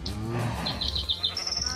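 Sheep bleat repeatedly in a Minecraft farm scene, a series of short nasal calls close by over a low background hum, with no talking.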